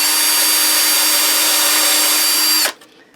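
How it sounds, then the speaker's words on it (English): A power drill bores screw holes into a guitar scratch plate on a custom Telecaster build, one loud steady whine held close for nearly three seconds before cutting off abruptly, with no talking. "we'll drill those out and then screw them in"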